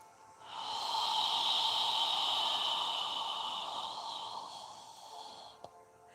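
One long, deep yoga breath flows steadily through the nose for several seconds, close and breathy, with a smooth airy hiss that swells and then slowly fades.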